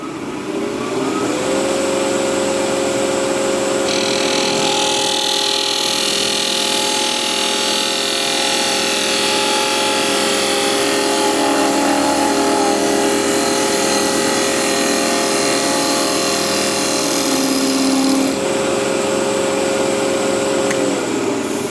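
Wood lathe spinning a sycamore vase while a tool makes one long smooth tapering cut, a steady loud motor hum with a constant whine and a hissing cutting tone that swells in the middle and fades near the end.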